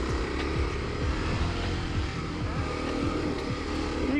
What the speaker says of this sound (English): we got a KLX 250 dual sport on some tight single track